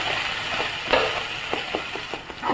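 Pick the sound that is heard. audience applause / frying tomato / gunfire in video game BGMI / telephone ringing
frying tomato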